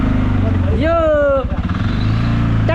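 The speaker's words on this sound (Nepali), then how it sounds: "यो ट्र्याक्टरको इन्जिन होला" An ATV engine runs loud and close with a steady low rumble throughout, while a rising drawn-out voice and people talking sit on top of the engine noise.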